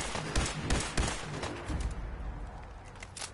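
Gunfire in Fallout 4 survival mode: several sharp shots near the start and around one second in, then scattered fainter shots over a steady noisy backdrop.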